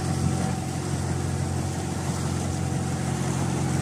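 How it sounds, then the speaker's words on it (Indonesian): A boat's net winch engine on a fishing platform drones at an even pitch with no pauses, loud and close throughout. "penggerak putaran penggulung tali yang akan menarik jaring naik ke atas sudah menyala"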